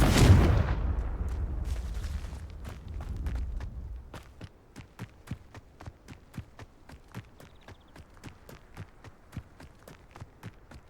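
A Confringo blasting spell explodes in the Hogwarts Legacy video game, a big booming burst that rumbles away. A long run of quick, even, faint clicking taps follows.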